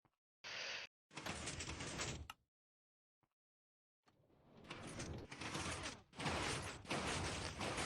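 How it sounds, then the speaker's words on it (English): Minecraft piston bolt mechanism sliding and clunking in bursts, with two short movements followed by a longer run of repeated mechanical strokes, close and fairly loud with silent gaps between. "This is a pretty cool piston bolt."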